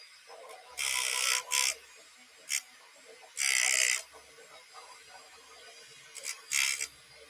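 A small battery-powered paint mixer used for painting 3D prints whirs in several short buzzing bursts of varying length, separated by near-silent pauses, close and moderately loud.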